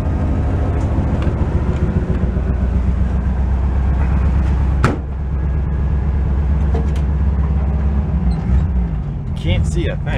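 The engine of a barn-find Volkswagen bus runs with a loud, steady, rough low rumble that briefly drops out near the middle and then carries on, with people talking over it.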